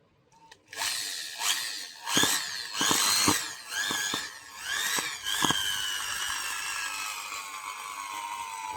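A faulty electric drill, still under warranty and later smoking, is switched on and off repeatedly, each burst a loud whining spin-up that bogs down, before one longer run that winds down slowly.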